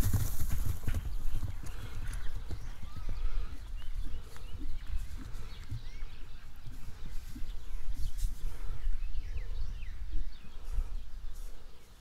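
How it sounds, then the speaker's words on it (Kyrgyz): A horse galloping in a race, its hooves clip-clopping in a quick, regular rhythm at moderate distance, with a brief whinny near the start and faint birds in the background. "Үчүнчү атты чаап көрсөткүлө дегендер үчүн мына."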